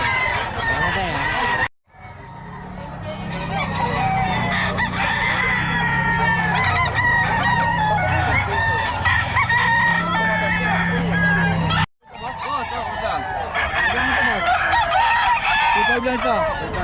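Solid black Henny roosters crow loudly and repeatedly while hens cluck, a busy, close barnyard clamour broken by two short cuts, with people talking faintly beneath.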